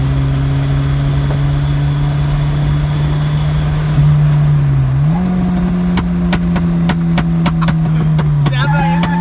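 A Nissan Silvia S12 with a turbocharged CA20E engine pulls at about 80% throttle, its steady loud drone climbing in pitch partway through, with faint clicks near the end.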